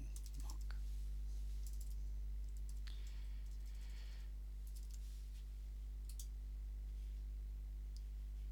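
Faint computer keyboard keys tapping in short clusters against a steady electrical hum, with long gaps between bursts of typing.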